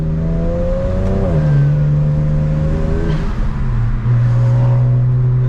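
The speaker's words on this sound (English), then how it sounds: "So I'll let y'all hear see what the car sounds like." A BMW 335i engine idles and revs up and down continuously, loud and close, with a steady droning hum that shifts pitch as the throttle changes.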